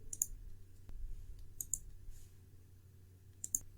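Computer mouse clicking on a picture icon in a presentation program, three crisp close clicks, the first two as quick double taps and another near the end, against a faint low background hum.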